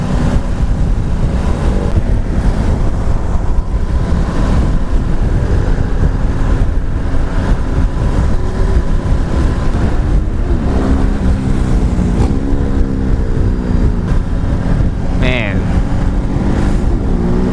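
A Ducati Multistrada 1260 Pikes Peak motorcycle engine drones steadily as the bike rides along, with wind rushing past and a rider talking over the noise.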